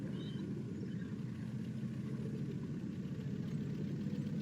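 Twin engine motors of a 44 Sundancer yacht in the Stormworks video game, running in forward gear with a steady, low droning hum that stays even throughout with no talk.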